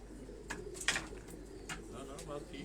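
Pigeons coo softly and close by in soft, rounded bursts, mixed with faint rustling and light background noise.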